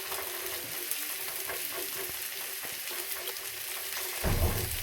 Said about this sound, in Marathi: आता आपण करू थोडे मसाले फ्राय. थोडंसं तेल टाकून घेऊ.